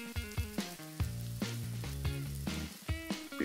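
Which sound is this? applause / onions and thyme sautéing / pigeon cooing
onions and thyme sautéing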